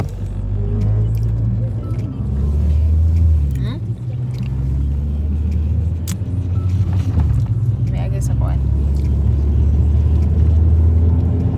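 A car cruising on a highway in Canada, heard from inside as a continuous low engine and road rumble with steady tire noise, loud and unbroken, with people chatting faintly over it.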